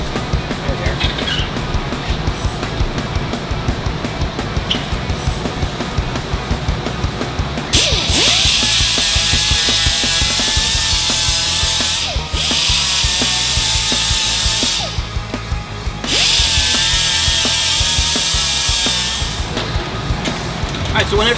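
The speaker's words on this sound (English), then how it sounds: "We'll smooth it out with an angle head sander." An angle head sander grinds and smooths burred edges of bandsaw-cut aluminum for a metal helmet, loud sustained abrasive whine in two long passes with a short pause between, over steady workshop rumble.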